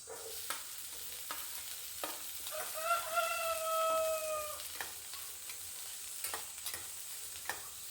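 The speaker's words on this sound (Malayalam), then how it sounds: "എണ്ണ ചൂടായിട്ടുണ്ട് അതിലേക്ക് നമുക്ക് അരിഞ്ഞു വെച്ചിരിക്കുന്ന വെണ്ടയ്ക്കയായിട്ട് വറുത്തെടുക്കാം" Chopped okra frying in hot oil, a steady crackling sizzle with sharp stirring scrapes, while a rooster crows once in the background midway, no talking.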